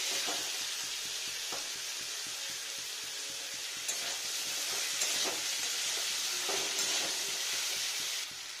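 Ginger, sugar and whole spices frying in oil while cabbage curry is cooked, a steady close bright sizzle with occasional stirring scrapes and louder crackles partway through.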